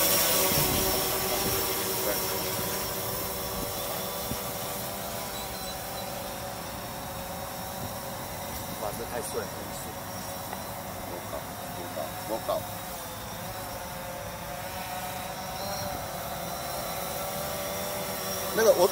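A small camera drone hovers during a practice flight for a pilot exam, giving off a steady, moderately faint electric whine with sustained tonal hum that holds throughout, and voices can be heard in the background.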